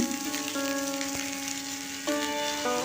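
Rounds of sliced ivy gourd fry in garlic-infused oil, a soft continuous sizzle heard up close, with a steady tonal hum running underneath and no talking.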